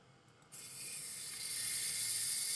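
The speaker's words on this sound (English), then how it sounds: "add a little ultrasound to try and disperse the sample a little further" Ultrasound probe on a Mastersizer switching on to disperse a liquid sample: after half a second of quiet room tone, a sharp hissing whine starts and grows steadily louder, close and continuous with no talk.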